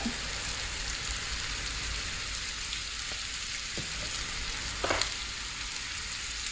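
Seasoning, including roasted garlic powder, being stirred into a sizzling taco skillet, giving a steady, rain-like frying hiss throughout with a few faint scrapes of the spoon, fairly quiet.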